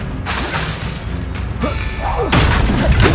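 A Confringo blasting spell strikes in the wizarding action game Hogwarts Legacy, a loud whooshing cast followed by crashing, booming impacts and debris over continuous combat noise.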